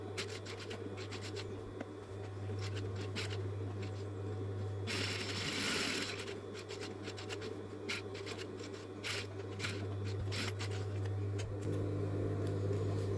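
Sewing machine running a short backstitch to secure the stitch ends at the edge of a garment pocket: a steady mechanical hum with rapid clicking needle action, close and continuous, with no talking.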